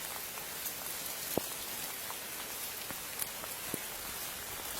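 Heavy rain pours down in a village, a dense steady hiss of falling water with scattered louder drops hitting nearby surfaces, no voices heard.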